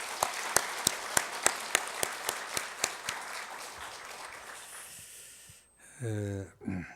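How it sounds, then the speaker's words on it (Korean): A church congregation applauds a choir: a burst of crisp, rhythmic clapping that fades over several seconds, followed by a short pause and then a voice speaking. "박수 한번 뜨겁게 해주시기 바랍니다"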